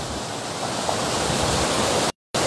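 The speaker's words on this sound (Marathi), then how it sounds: "शेतामध्ये अशा पद्धतीनं नुकसान करणारे धबधबे आत्ता आपल्याला पाहायला मिळतात." Heavy rainwater pouring through farm fields like a waterfall in Jat taluka, a loud, steady broadband rush of falling water that runs continuously, then cuts out briefly near the end before resuming.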